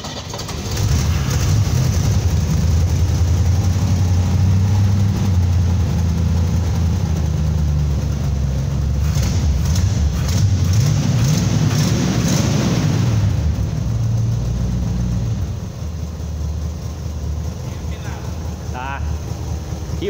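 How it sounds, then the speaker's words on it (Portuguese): Rare antique car from a Brazilian collection, its engine running with a deep, steady low rumble and idle close by, briefly revving around the middle before settling back to a smooth idle. "o Edivaldo vai ligar aqui pra nós o carro"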